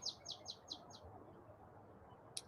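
Repeated bright bird chirps outdoors, five quick calls in a regular rhythm followed by a single sharp note, fairly close and clear over faint background ambience with no talking.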